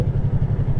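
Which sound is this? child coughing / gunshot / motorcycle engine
motorcycle engine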